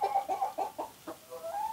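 A chicken clucks in a quick series of short, nasal calls, close and fairly quiet, ending in a drawn-out squawk.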